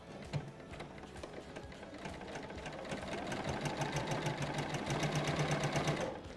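A sewing machine stitches along a marked line using shirring elastic in the bobbin, running in a fast, steady mechanical rhythm that builds slightly and holds evenly until it stops near the end.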